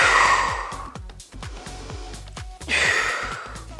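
A strong exhaled breath during a prenatal full-body dumbbell workout, two broad breathy rushes, one at the start and one near the end, with soft rhythmic music thumping underneath.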